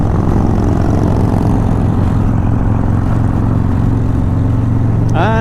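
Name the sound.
loud Rinehart exhaust pipes of approaching vehicle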